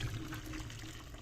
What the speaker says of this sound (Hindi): इसमें हम डालेंगे सेबों वाला पानी जिसमें हमने सेबों को उबाला है।